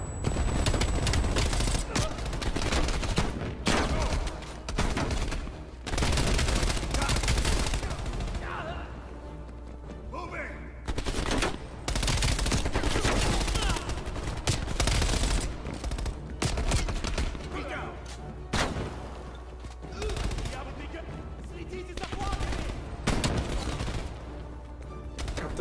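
A machine gun with a 50-round magazine in Call of Duty Black Ops Cold War fires loud, repeated bursts of automatic fire, with short pauses between volleys, for the whole stretch.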